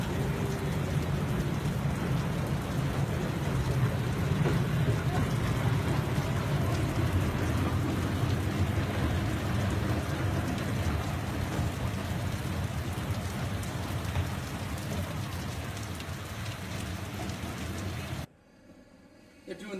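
Heavy rain falling on Canal Street in New Orleans, a dense, steady hiss of downpour with faint low rumbles that continues loud for most of the stretch before dropping away abruptly near the end; talking is heard faintly.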